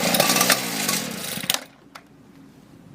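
K12 saw engine catching with a loud, harsh two-stroke buzz for about a second and a half, then cutting out abruptly and leaving near silence with a few faint clicks.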